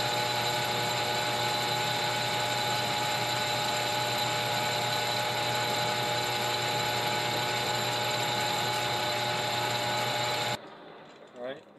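Milling cutter machining a custom cylinder head for a 50cc race chainsaw, a steady high whine with tonal layers running loud and unbroken before cutting off abruptly near the end.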